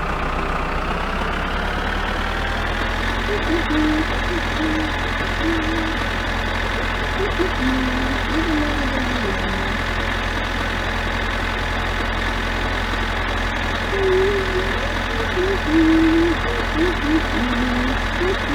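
A car engine hums steadily while driving in a video game, a constant mid-pitched drone with low rumble running the whole time, faint varying tones rising and dipping over it.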